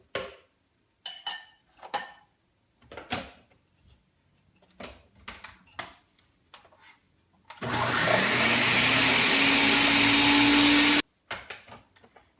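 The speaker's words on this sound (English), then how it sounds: "I'm just pushing down the cauliflower a little bit so I make sure everything gets blended." Blender processing cauliflower into crumbs for a pizza crust, running loud and steady for about three seconds after a series of short clatters and knocks from handling the jar.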